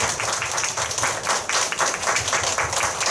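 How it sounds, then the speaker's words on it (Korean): An audience at a Korean women's committee workshop claps warmly in a continuous burst of many hands close by, lively and uneven, lasting the whole short moment. "박수 한번 주시죠."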